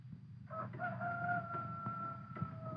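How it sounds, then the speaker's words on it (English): A rooster crows in one long drawn-out call at night, steady and moderately near, over a low background hum with no talking. "Listen to that rooster crow."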